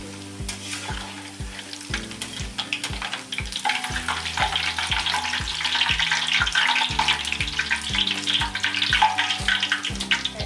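Emping melinjo chips frying in oil at a small production kitchen, a steady loud sizzle and bubbling with rhythmic stirring knocks underneath.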